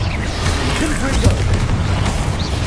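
Confringo spell explosions in Hogwarts Legacy, a loud dense rumbling boom that stays heavy and sustained throughout, with a voice faintly mixed in.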